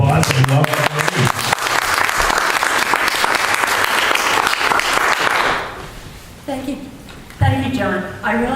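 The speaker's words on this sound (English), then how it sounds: "Will you give her a round of applause and welcome Maureen?" A room of listeners applauds warmly to welcome Maureen at a hosted event, steady clapping for several seconds that fades out, with a voice speaking over the start and again after it ends.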